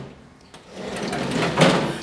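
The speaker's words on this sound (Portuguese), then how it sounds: "Ouça o áudio do fechar da porta." A door closing nearby with a single drawn-out scraping slide that rises to a firmer peak near the end, alone with no speech.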